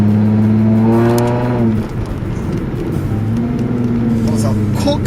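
A lowered Toyota Mark X with a one-off muffler and cambered wheels revs up to high rpm, its loud, close exhaust note rising, dropping off, then climbing again.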